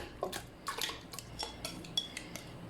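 Several light clinks and clatters of mutton pieces dropping into a metal pressure cooker, irregular taps spread across a few seconds, fairly close and quiet.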